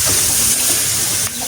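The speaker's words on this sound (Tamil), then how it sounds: "இனி நாங்கள் இந்த பாலை விடுவோம்" Milk is poured into a simmering tamarind fish curry cooked without oil, making a loud, continuous gushing pour that cuts off abruptly near the end, with no talking.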